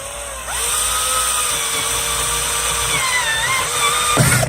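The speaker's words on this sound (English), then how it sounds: "So the first thing we're going to do is drill here, like such." A power drill spins up and runs steadily for about four seconds, its motor whine rising slightly before winding down, close by.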